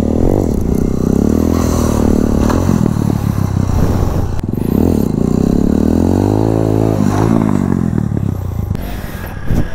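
A motorcycle doing wheelie circles, its engine roaring loudly and continuously, rising and falling in pitch with repeated revving surges and no talk over it.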